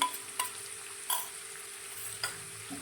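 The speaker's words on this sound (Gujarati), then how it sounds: "અને બધી જ વસ્તુને આપણે 2 થી 3 મિનિટ માટે સારી રીતે સાંતળીશું" Fenugreek leaves, ginger, green chili and garlic sautéing in a pan give a soft, steady sizzle, punctuated by a few quick spatula clicks against the pan as they are stirred.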